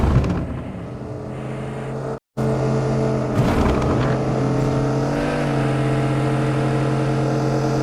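A motorcycle engine in a squad-based shooter video game hums steadily near the listener, with a brief dropout and a short rev swelling midway before settling back to a continuous drone.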